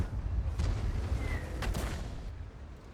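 Artillery fire in the World of Tanks video game: a low, rumbling background with a couple of muffled distant booming shots, fairly quiet and heavy in the low end.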